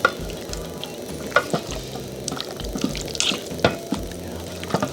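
Chicken simmering in water in a cooking pot for a Kenyan dish, a faint steady bubbling with scattered small pops and drips.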